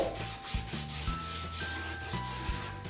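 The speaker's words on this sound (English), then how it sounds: "hit the high points with that sanding block" Steady back-and-forth rubbing of a sanding block on painted wood, rhythmic strokes roughly every half second, close and fairly quiet.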